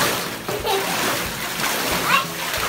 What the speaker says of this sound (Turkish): Yapıyorum, dalga geliyor.